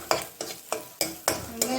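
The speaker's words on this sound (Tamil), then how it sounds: "போட்டு நல்லா வதக்கிக்கலாம்." Onions for Tamil-style pasta are stirred in a frying pan, six distinct scraping strokes at a steady rhythm over a soft, close sizzle, with no talking.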